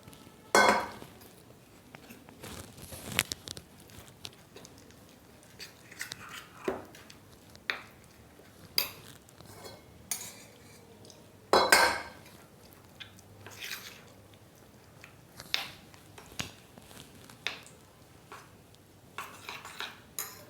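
Flour and water stirred into a batter in a bowl, heard as scattered spoon clinks and soft scrapes at an irregular rhythm, quiet and close, with no talking.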